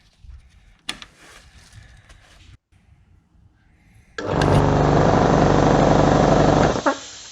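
A restored 1960s McMillan SuperSpray air compressor starts on its first test: a few quiet clicks and handling noises, then the motor kicks on abruptly into a steady, loud, close-up electric hum and rattle for about three seconds before shutting off.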